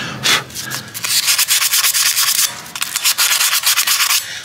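Steady, vigorous sandpaper scraping rust off metal rear brake parts of a Mazda CX-9 in quick back-and-forth strokes, loud and close, with no voices.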